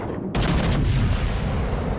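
Naval gunfire in the video game World of Warships: Legends, a sudden loud booming salvo with rapid overlapping blasts that roll into a sustained rumbling decay, heard alone.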